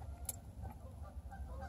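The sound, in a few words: Canada geese honking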